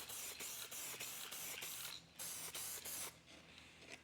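An aerosol spray can lays down a coat of sealer in a series of short hissing bursts, each lasting under a second, with brief gaps between passes; the final bursts are softer and more spread out.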